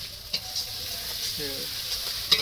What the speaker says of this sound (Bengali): পেঁয়াজ কষা